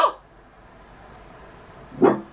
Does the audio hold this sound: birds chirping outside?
no